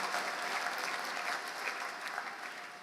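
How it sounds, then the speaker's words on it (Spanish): Loud, sustained applause from a congregation at an international missionary church congress in Oberá, Misiones, with dense clapping that continues evenly and fades slightly toward the end. "Fuerte el aplauso"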